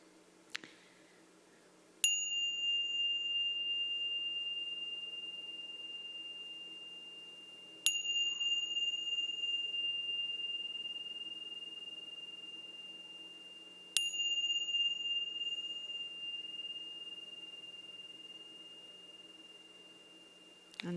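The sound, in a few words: meditation bell being rung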